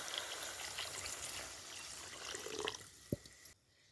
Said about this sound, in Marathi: हे तांब्यावर पाणी घालून घेऊ